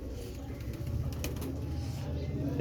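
Rampuri pigeons at the Lahore pigeon market coo in a low, steady murmur beneath a constant wash of crowded market noise, with no single call standing out.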